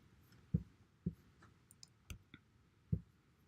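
A computer mouse clicks five or six times at uneven intervals while a color tool is used, each sharp and close against a quiet background.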